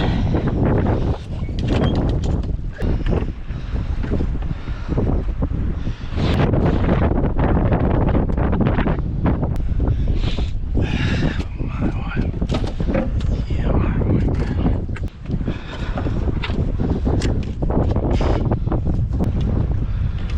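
Strong, steady wind roars across a sailboat's foredeck offshore, loud and buffeting the microphone continuously with gusty fluctuations and faint water and boat noise beneath.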